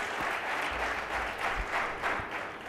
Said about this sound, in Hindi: हम एक बार जोरदार तालियां बजाएं